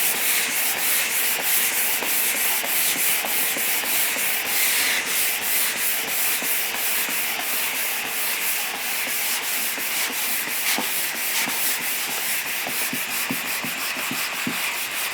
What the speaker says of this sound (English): You've got to like sanding for this job, haven't you?